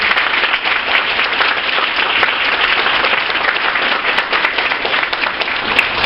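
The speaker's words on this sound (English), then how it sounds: "I think we all really need to give them a round of applause for everything that they do." Sustained audience applause at a county chamber's State of the County event, an even, crackling patter of many hands clapping that stays full and constant throughout.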